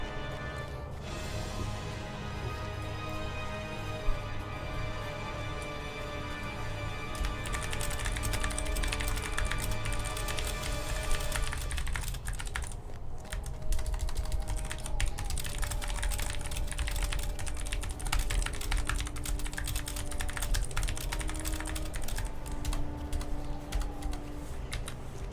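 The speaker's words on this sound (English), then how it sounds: "Sorry, I was typing" Someone types on a computer keyboard during a Lord of the Rings Online gaming session, a steady patter of key clicks running under game music and ambient tones for about twenty-five seconds, with no talking.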